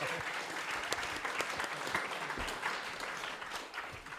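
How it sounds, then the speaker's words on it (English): An audience claps loudly and continuously for a guest at the close of a live podcast show, a thick, even wash of many hands, nearby and steady, without talk over it. "One big round of applause."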